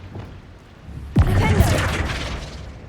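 A Bombarda explosion spell cast in Hogwarts Legacy: one sudden booming blast bursts out of low background noise, then a crackling, rumbling tail of debris fades slowly over the next second and a half.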